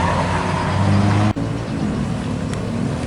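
A large ANS intercity bus engine rumbles steadily nearby with road noise as it arrives at a terminal, a brief drop in sound midway, then the idling drone continues.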